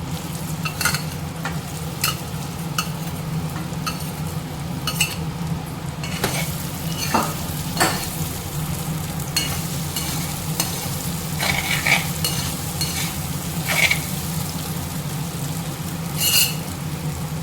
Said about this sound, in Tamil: நம்ம ரெடி பண்ணி வச்சுருக்க கொண்டைக்கல்லையே இது கூட சேர்த்துக்கலாம்.